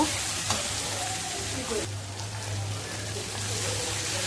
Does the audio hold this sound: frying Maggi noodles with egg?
yes